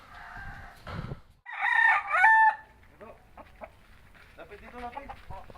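A rooster crows loudly nearby, preceded and followed by softer chicken clucks and faint background noises.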